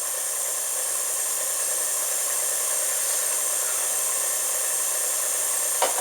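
A stand mixer fitted with a bread hook kneads pan pizza dough, giving a steady, loud motor whir and hiss that runs unbroken throughout, with one faint knock near the end.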